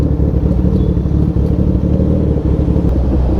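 Heavy road traffic on the way to Karol Bagh is a loud, continuous, close low rumble of passing cars and engines, mixed with steady wind buffeting on the microphone.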